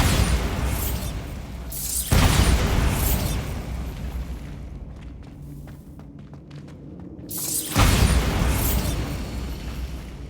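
A Bombarda spell explodes in Hogwarts Legacy, a loud booming blast with a rumbling debris roar that fades into a quieter stretch, followed by a second heavy boom and rumble, close and powerful with no speech.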